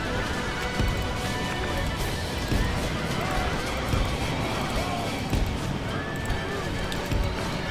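Cavalry horses neigh and whinny over a steady drum of galloping hooves in the strategy game Rebirth of the Han, with a dense, continuous battle din filling the scene.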